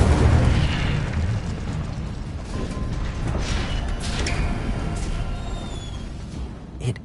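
Incendio fire spell cast in the video game Hogwarts Legacy, a loud fiery blast that rumbles and crackles, followed by continuous combat effects and small bursts over a dense game-sound backdrop.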